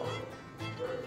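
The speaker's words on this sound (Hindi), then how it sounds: "क्योंकि रात है तो कुत्ते तो बोलेंगे ही" Dogs bark at night in the distance, a couple of short muffled barks rising over a low background hum.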